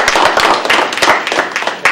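Scattered hand clapping, moderately loud and close, a modest group applauding briefly with uneven rhythm.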